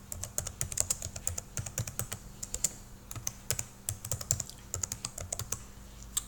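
Rapid typing on a computer keyboard while entering an article title, crisp close key clicks in an uneven steady rhythm over a low hum, with no talking.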